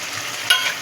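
A spice masala being stir-fried over medium heat in a wok for a vegetarian Kashmiri potato curry with peas gives a steady close scrape and sizzle, with a sharper stirring clatter about halfway through.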